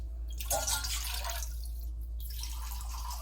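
Water pours steadily into a cooking pot, a close, continuous splashing stream that shifts in tone midway and briefly thins before resuming, heard alone without speech.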